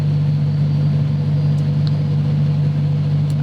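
Car engine on a dyno during live fuel tuning, running steadily at held RPM with a constant loud drone and no talk.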